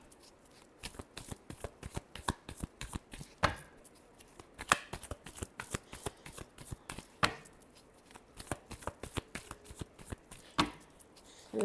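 Tarot cards are shuffled by hand in quiet, repeated riffling bursts and soft flicks, close and intimate, with no speech over them.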